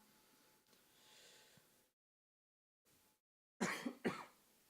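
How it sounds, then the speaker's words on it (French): Two sharp, close coughs burst out in quick succession after a quiet stretch with faint background noise. "Et je tousse."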